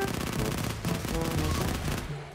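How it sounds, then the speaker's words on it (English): Rapid gunfire in the Left 4 Dead 2 video game, a dense burst of shots for about two seconds, loud and close with no talk over it. "Oh shit, he has a sniper rifle."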